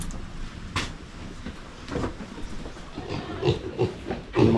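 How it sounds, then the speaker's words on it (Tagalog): Farm pigs grunt and snuffle in short, uneven bursts, fairly close, over a rough background of rustling and shuffling, getting louder toward the end. "Yung mga baboy natin, oh."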